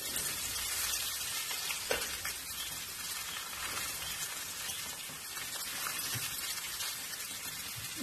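Bird's-eye chillies and garlic fry slowly on a low flame, a soft, even crackling sizzle like light rain that holds steady at moderate level, with an occasional faint tap of a utensil.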